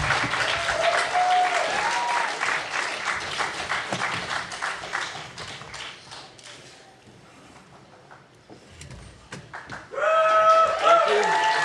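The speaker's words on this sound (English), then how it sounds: "Let's give them a round of applause." A film-festival audience applauds as people are invited to the stage, with steady clapping for most of the stretch, a lull midway, then a louder burst of applause near the end.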